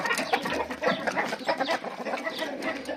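Chickens and roosters crowded together in a coop keep up a dense, continuous clucking and squawking, close and fairly loud, with no talk over it.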